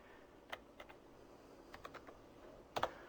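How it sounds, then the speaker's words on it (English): Typing on a computer keyboard: a few soft, sparse clicks and one quick cluster of keystrokes near the end, faint and close against a steady background hiss. "I'm typing hello JSP, and then I'll type the time is now."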